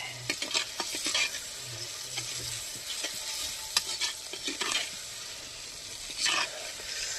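Tomatoes sautéing for a goat intestine gravy sizzle steadily in a pan while a spoon stirs and scrapes in irregular strokes, with several louder clanks against the metal near the end.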